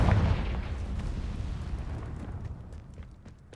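Confringo blasting spell cast in the video game Hogwarts Legacy: a loud, close boom that fades into a long, rumbling decay.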